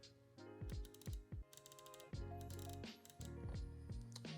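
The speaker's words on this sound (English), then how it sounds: "And then this is a stepped grinder, so if you can hear it." 3BOMBER Sniper stepped herb grinder being twisted, a run of close, quiet ratcheting clicks in quick bursts as the stepped sections turn, no talking.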